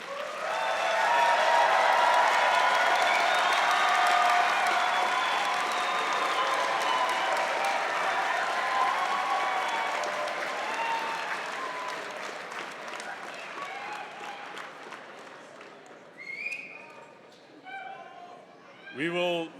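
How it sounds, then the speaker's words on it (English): A crowd at a convocation ceremony gives loud, sustained applause for the final graduate. The clapping fades gradually, and cheers and voices rise briefly near the end. "so please give a big round of applause for Oren Sorgi."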